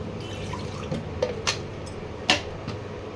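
Water poured in small amounts into a banana flower fritter batter, a few soft drips and wet splashes over a low steady background hum.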